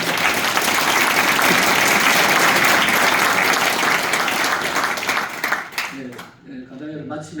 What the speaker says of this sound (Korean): 우리 감독회장님께 크게 한번 박수 쳐주십시오